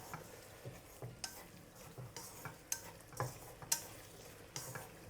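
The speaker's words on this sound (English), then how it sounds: "Give it a stir." A spatula scrapes and stirs Chinese herbal chicken in a hot pan with Shaoxing cooking wine, soft sizzling under a series of quiet irregular clinks and scrapes, close by.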